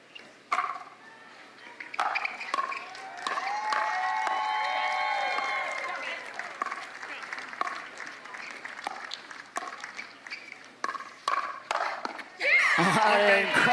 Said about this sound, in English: Packed house, sold out crowd here in Atlanta.